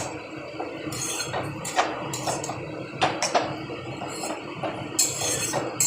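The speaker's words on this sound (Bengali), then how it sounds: "এটা ভালো করে আমি মিক্সিংটা করে এটার মধ্যে একটু ওই সেদ্ধ করা জল আছে," Spoon clinking and scraping against a cooking pot while a spice mixture for a curry is stirred with boiled water, close and moderately loud, with irregular metallic taps and clinks repeating throughout.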